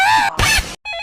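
A phone's ringtone plays loud and close as sustained, tuneful electronic tones. It cuts off briefly and resumes as a steady, pulsing tone.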